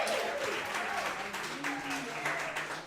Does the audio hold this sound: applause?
yes